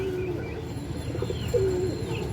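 A healthy pigeon coos softly close by, giving two low, drawn-out coos over a quiet background hum.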